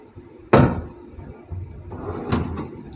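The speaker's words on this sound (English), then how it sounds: "And here is the drawer where I have kept my things, so you can do the same." A drawer in a hotel room at a Holiday Inn in Mayur Vihar opens or shuts, making a sharp wooden knock close by, followed by softer sliding and a second clack about two seconds later.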